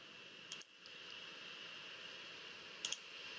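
Computer mouse clicks in engineering simulation software: two quick, faint double clicks, spaced a couple of seconds apart over a quiet background hiss.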